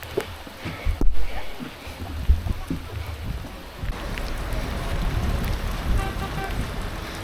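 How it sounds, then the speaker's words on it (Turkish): Steady rain falls outdoors on a rainy day near Kolsai Lake in Kazakhstan, a continuous wash of drops with low rumbling and a few louder bumps, growing denser in the second half. "Yağmur hala yağıyor."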